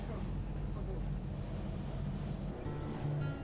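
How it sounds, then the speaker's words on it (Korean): A boat on a rough sea near Dokdo in heavy waves and strong wind, as a constant low rumble of engine, wind and water, with a brief tonal hum late. "심한 파도와 강한 바람을 헤치고 무사히 독도 인근까지 다다랐을 땐"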